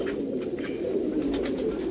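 Andhra pigeons coo in a low, continuous throaty murmur, close and steady, with no talking.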